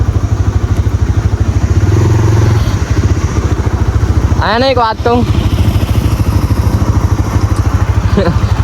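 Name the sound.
Kawasaki Ninja H2 superbike engine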